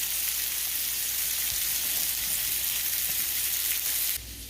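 Poor man steaks frying in a pan give off a loud, dense, even sizzle that runs unbroken and close, then drops to a quieter hiss near the end, with no talking.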